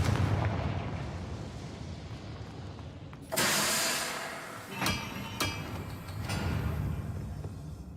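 Confringo explosive spell cast in a Harry Potter video game, a sudden booming blast followed by a couple of sharper bursts over a rumbling background.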